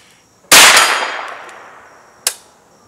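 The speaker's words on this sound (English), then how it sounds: "we're just gonna shoot with the iron sights to see" A Henry AR-7 rifle fires one loud, close shot at a steel target about 45 yards off, its report ringing out and decaying, followed by a sharper, fainter metallic clank.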